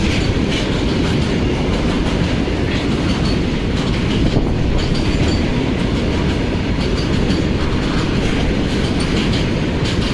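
An oil tanker goods train pulls into Kanaibazar railway station, its wagons producing a loud, steady roar with rhythmic clickety-clack of wheels over rail joints throughout, close by and unbroken by voices.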